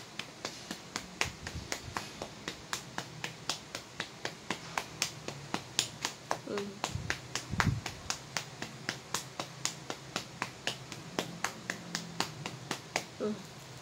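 Rapid, steady pats of the hands on a person's head, done as a quick headache remedy; dozens of light, close taps in an even rhythm, with brief faint talk partway through.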